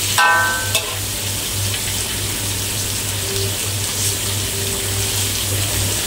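Beef sizzles and fries in a pan with ginger, garlic and red onion, giving a steady, close crackle with a few stirring clatters near the start and a low background hum.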